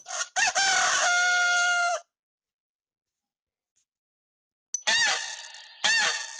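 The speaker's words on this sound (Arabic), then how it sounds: "ديك." A rooster crows twice, loud and close: one long cock-a-doodle-doo, then a pause of silence, then a second crow in two bursts.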